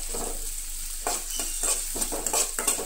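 Grated coconut being lightly heated in a pan, with soft scraping stirs and a faint sizzle that come in short repeated strokes, close and moderate in level.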